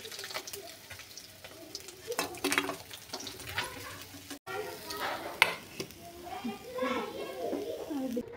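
Oil sizzles and crackles in a pan as spices are tempered after frying fish, with scraping and stirring, while someone talks over the cooking.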